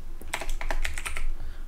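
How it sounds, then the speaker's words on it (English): Someone types a short command on a computer keyboard, a brief close burst of about a dozen light clicky keystrokes over a low room hum. "Now you just type make"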